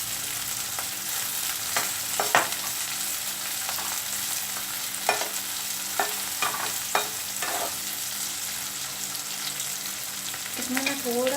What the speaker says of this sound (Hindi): इसी के साथ में मैं इसमें डाल रही हूँ शिमला मिर्च बारीक कटी हुई और एक हरी मिर्च। इसको अच्छे से हिलाएं।